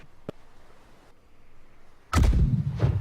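Ship cannons fire in the Blackwake naval game: a faint sharp report early on, then a loud booming blast with a rumbling tail about two seconds in.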